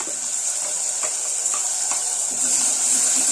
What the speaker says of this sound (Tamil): அந்த மசாலாவை நம்ம இது கூட சேர்த்துக்கிறோம்